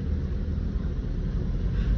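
Tyres of a three-wheeled auto rickshaw rolling on the road while driving, giving a steady, loud low rumble that runs unbroken from start to finish with no voices.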